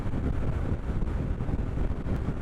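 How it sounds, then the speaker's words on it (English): Strong, steady wind buffets a helmet-mounted microphone while riding, a dense roaring rush, loud and continuous as if moving at speed. "It's like windy. It's like really windy."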